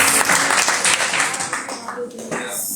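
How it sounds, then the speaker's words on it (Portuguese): Church congregation applauding during an evening worship service, a dense wash of clapping that stays loud for a few seconds and then thins out, with voices mixed into it. "Aplauda ao nome do nosso Deus."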